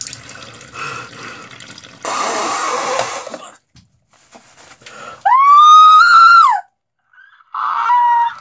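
Water from a tap poured over a person's head to rinse shampoo out of hair, coming in bursts of splashing and running water broken by pauses, with a loud bird-like squawk or squeal in between.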